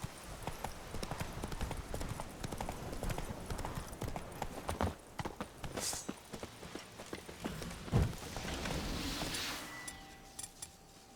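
A horse's hooves clip-clop in a steady, fast trotting rhythm in The Legend of Zelda: Breath of the Wild, fairly quiet and continuous, with a few louder thuds along the way.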